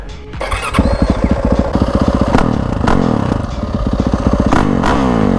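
A loud Yamaha WR450F dirt bike engine up close, crackling and popping as it's blipped and revved in quick bursts, with harsh rising and falling pitch.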